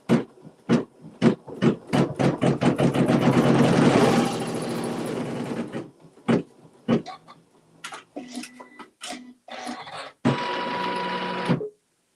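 A sewing machine stitches a fabric seam on a pieced quilt block, first with separate needle thumps, then a continuous close whir for a few seconds, followed by scattered clicks, handling noise and a final short run.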